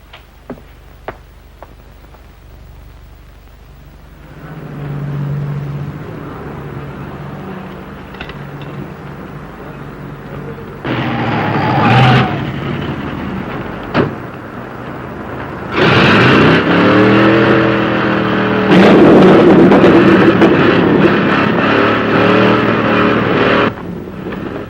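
An old 1950s hot rod engine roars and revs in bursts, growing louder as the car approaches and passes, with quiet ticking and clicks between the surges.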